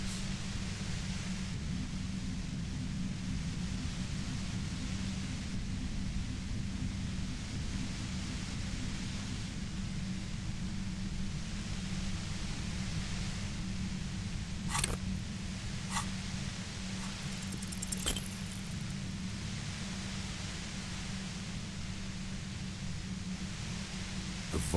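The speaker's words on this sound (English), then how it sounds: "The violent white noise becomes even more overwhelming closer to the compressor." Loud, steady wash of harsh white noise near a compressor in the video game Disco Elysium, a dense hiss and low rumble that fills the whole clip with a few sharp crackling bursts midway, no voices.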